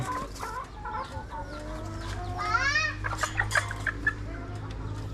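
Dekalb brown laying hens about eight months old cluck and squawk close by in a rising, excited chatter. A rural hum runs underneath the birds throughout.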